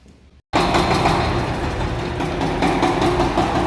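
After a short quiet moment, the engine of a Shifeng 354 tractor, just repaired, starts abruptly and runs at a loud, steady low rumble close by, with no talking.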